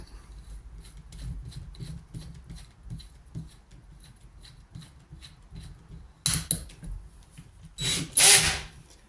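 A 2mm bit drills through a model railway baseboard, a low steady whirr with faint repeated grinding pulses, then two louder bursts near the end as the bit breaks through.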